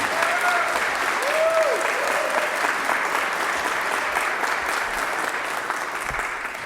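An audience claps steadily to welcome a speaker at a lecture event, a sustained wash of many hands applauding at even loudness throughout, with a faint voice briefly audible underneath.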